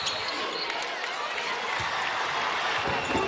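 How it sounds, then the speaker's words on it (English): A large crowd cheers at a South Carolina Gamecocks versus Ole Miss women's basketball SEC Tournament semifinal, a broad sustained roar filling the arena with scattered sneaker squeaks and ball bounces. "And you hear the cheers, Camila Cardoso coming in for the first time for the Gamecocks."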